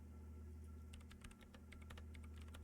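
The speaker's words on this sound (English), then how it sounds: "typing in some numbers that only she understands" Quick, uneven keystrokes tap on a terminal keyboard in the video game Disco Elysium, close and clear over a steady low hum, with no voices.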